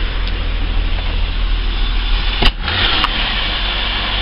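A car engine idling a little higher than normal after a throttle body clean, a steady close-up rumble with a brief dip and bump partway through, with no talking.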